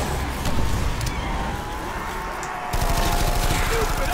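An MG08 machine gun fires in a video game as a dense, continuous rattle of rapid shots, loud and close, with the cadence changing partway through.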